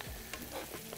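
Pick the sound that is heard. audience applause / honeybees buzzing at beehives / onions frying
onions frying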